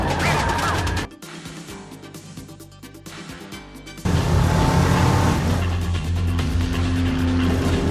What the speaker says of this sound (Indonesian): Balapan pun dimulai, dan Hennessy menggunakan segala cara untuk